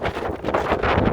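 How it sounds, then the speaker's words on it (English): Strong wind buffets the microphone on a downtown Chicago street, a steady loud rumbling roar with gusty swells throughout. "Very windy, ladies and gentlemen."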